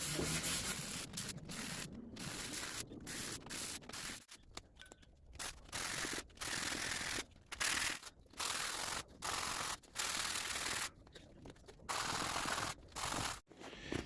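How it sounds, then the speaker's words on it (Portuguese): Hand sanding of a resin and fiberglass box, rhythmic scratchy strokes in repeated bursts separated by brief pauses, close and moderately quiet with no speech. "pode estar lixando com isso também"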